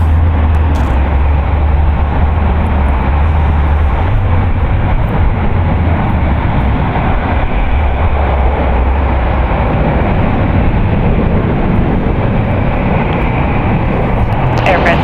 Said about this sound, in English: United Airlines Flight 948 going to London Heathrow, a Boeing 777-200ER, 25 years of age, is rolling down to 28 left